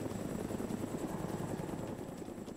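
A helicopter in the DayZ Origins video game drones steadily and loudly throughout, with constant rotor and engine noise and no break.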